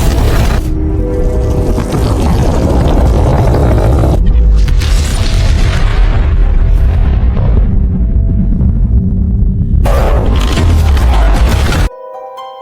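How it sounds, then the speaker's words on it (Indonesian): A huge explosion shakes a cliff at a ravine, a loud sustained roaring boom that rumbles on for several seconds and cuts off abruptly near the end. "Ledakan super dahsyat pun mengguncang tebing jurang horor itu."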